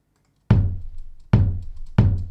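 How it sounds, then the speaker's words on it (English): Three deep, punchy electronic drum hits with a short decaying boom, spaced unevenly apart and isolated against silence. "So adding the knock sounds like this"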